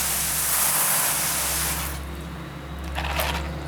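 Pressurized water sprays steadily and loudly while rinsing a Traxxas Slash 4x4 RC car, the hiss easing briefly midway before building again with spattering.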